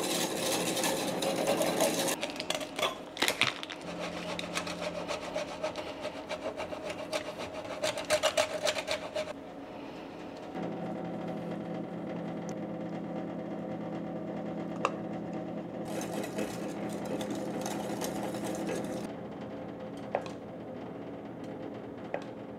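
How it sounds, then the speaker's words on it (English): A whisk scrapes and rubs rhythmically against a pan while a quick sauce is stirred, a steady close rasping texture that pauses briefly midway and resumes, fairly quiet with no talk. "I'm just gonna go right to the whisk."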